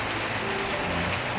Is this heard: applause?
no